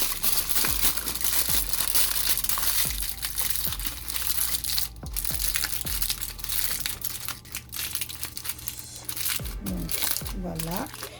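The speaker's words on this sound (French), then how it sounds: "je vais les mettre dans du papier aluminium." Aluminium foil crumpled and wrapped around meatballs, dense crinkling and crushing close up that runs continuously, with soft thumps mixed in.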